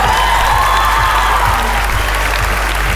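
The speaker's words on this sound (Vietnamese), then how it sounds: "Vỗ tay cho tiết mục ngay bây giờ." A studio audience at a Vietnamese TV talent competition claps loudly for a performance, steady and continuous throughout, with a low rhythmic thumping underneath and no speech.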